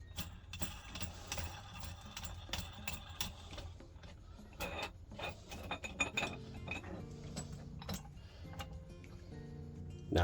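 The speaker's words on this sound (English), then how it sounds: "Tighten up the bolt." A bolt being tightened on a Fiat Panda 2006 control arm during a Powerflex bushing install, heard as a close series of metallic ratchet clicks and clinks at an uneven rhythm, fairly quiet, with no talking.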